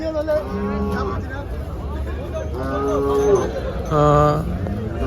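Cattle at a Saturday cow market in Chalisgaon, with HF and Jersey cows, moo repeatedly at close range over a steady crowd murmur, with a louder low moo near the end.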